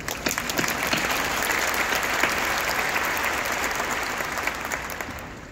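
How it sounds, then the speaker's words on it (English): Sustained audience applause at a 2019 high school graduation ceremony, a dense wash of many hands clapping steadily at full volume from start to finish with no speech. "Please join me in giving them another round of applause."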